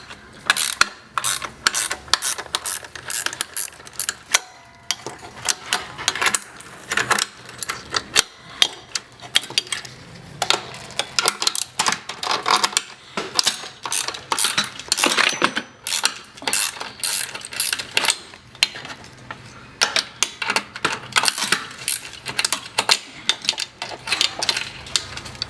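Screws are loosened and removed by hand to take the motor out of an overlock sewing machine: irregular bursts of metallic clicking, ratcheting and scraping, close up, with brief pauses between turns.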